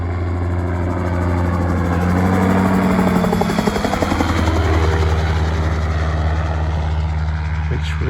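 A Sport Copter Vortex M912 gyroplane comes in for a landing, its rotor and engine thrumming loudly and steadily nearby, swelling slightly as it passes closest.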